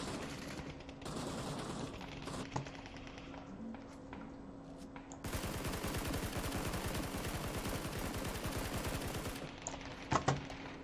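SCAR assault rifle without attachments in PUBG fires in rapid bursts, then a long sustained automatic string of loud, evenly spaced shots, followed by a couple of thuds at the end.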